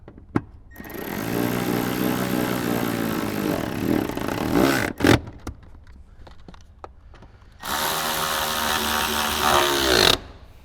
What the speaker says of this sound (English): I'll go ahead and get those tightened down